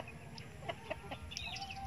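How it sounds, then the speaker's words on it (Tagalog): Backyard chickens cluck softly in short, scattered calls over low rural background noise, faint and at a moderate distance. "Yan po mga manok namin."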